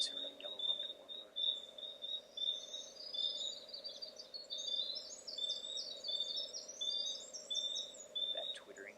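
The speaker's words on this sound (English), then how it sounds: "That twittering was the winter wren" A winter wren's high twittering song on a June nature walk: rapid, repeated bright trills, moderately close and fairly faint, running through the whole stretch over a steady insect-like hum.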